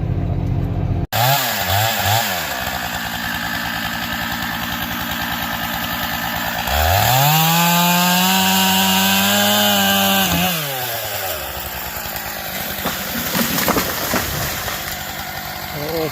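A chainsaw bucks timber logs, a big walnut among them, loud and close throughout, its engine revving into a long sustained cut midway, then dropping back to a rough idle with some knocks.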